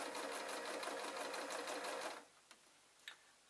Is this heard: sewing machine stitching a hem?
yes